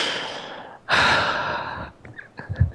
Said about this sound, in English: What's with the heavy breathing?